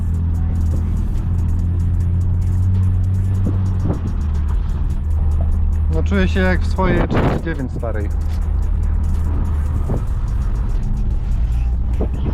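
A BMW E39 with an M50B30 engine cruises with a constant low engine drone and road roar inside the cabin, a brief rev change near the middle, while someone talks over it.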